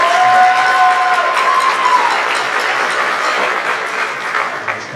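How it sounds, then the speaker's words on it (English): A middle school drum line at a percussion concert draws sustained audience applause, a dense wash of clapping that opens loud and slowly tapers without ending, with light crowd noise mixed in. "it's okay to clap for that"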